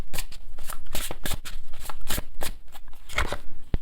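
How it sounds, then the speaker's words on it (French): A deck of tarot cards being shuffled close up, a steady run of quick riffling flutters and soft slaps that continue for several seconds with no voices. "Je mets les cartes les amis, en même temps j'analyse, voir les messages."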